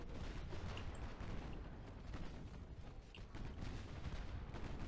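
Naval gunfire in Ultimate Admiral: Dreadnoughts, a dense, continuous barrage of booming shots from warships, some crisp reports standing out over a rolling roar.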